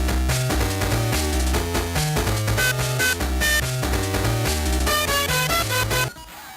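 Game Boy Advance game music played through an Advanced Game Port comes out as a loud, dense chiptune loop with a busy thumping bass line and harsh, crowded tones, cutting off near the end, with no talking.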